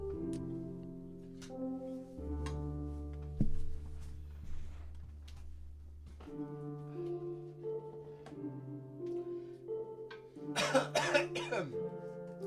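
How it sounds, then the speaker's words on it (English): A few sharp coughs burst out near the end over a steady, droning musical background with occasional faint clicks. "I'm sorry for coughing."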